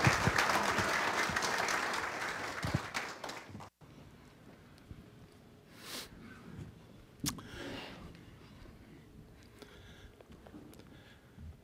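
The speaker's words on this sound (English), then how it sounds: "Give them another round of applause, would you?" A church congregation claps during a Sunday service, with loud, dense applause for the first few seconds that stops abruptly, followed by quieter room noise and a few scattered sounds.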